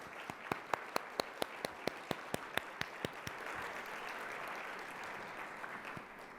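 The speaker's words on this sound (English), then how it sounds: "Let's give them all a round of applause" Audience at a Columbus Metropolitan Club forum on Haitian refugees and immigration applauding, with a run of loud, evenly spaced close claps over a steady crowd clapping wash that continues after the near claps stop.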